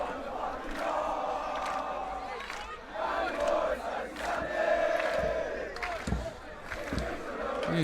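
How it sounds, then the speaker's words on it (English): Crowd of St Andrews College supporters cheering and shouting for their first XV rugby team against Framesby High at Graeme Rugby Day, a steady roar of voices with louder bursts and a few sharp thuds near the end. "You see the St Andrews crowd doing their best to support their first team here."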